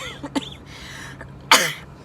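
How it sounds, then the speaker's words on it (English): Inside a car with the air conditioning running, a small throat sound is followed by one sharp, harsh cough close to the microphone, set against a quiet cabin hum. "I'm trying to keep the car cool, and it's making me cough."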